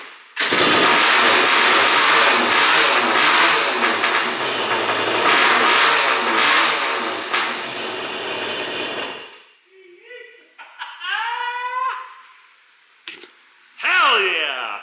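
A jet ski engine left sitting since 1993 fires up and roars loudly up close for several seconds, then cuts out, followed by excited voices and a brief restart burst.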